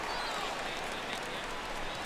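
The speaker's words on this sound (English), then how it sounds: "This crowd oohs and ahs every time this guy hits a fly ball." A baseball stadium crowd in the video game MLB The Show 16 gives a steady, broad roar and murmur that holds level throughout, like cheering during a fly ball.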